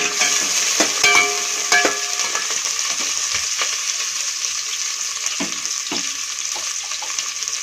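Steady sizzling of chopped large onions frying in a pan for ghee rice, with intermittent scraping and clinks of a spoon stirring.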